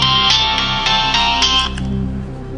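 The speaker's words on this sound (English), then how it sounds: "my phone is going off myself here" A mobile phone rings loudly nearby with a bright, repeating melodic ringtone that plays steadily for a couple of seconds before easing slightly.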